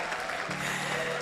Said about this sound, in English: Oh, now you are clapping.